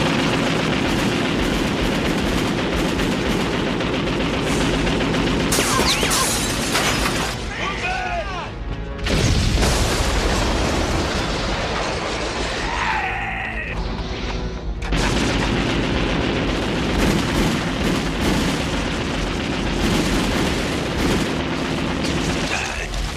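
Heavy artillery and automatic gunfire in a 1993 anime firefight: loud, continuous rattling bursts and booming blasts fill the whole stretch, with voices shouting in between.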